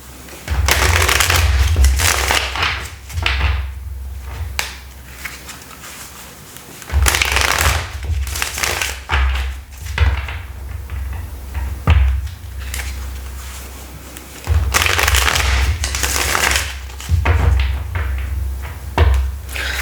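Tarot cards are shuffled up close in three loud, riffling bursts separated by quieter pauses with light handling noise.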